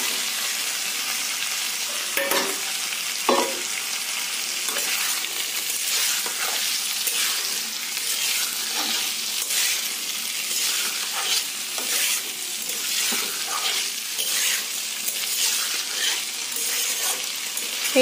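Potatoes stir-fried together with pieces of beef fat in a pan for alu dom, a continuous close sizzle with intermittent scraping stirs and spatula knocks throughout.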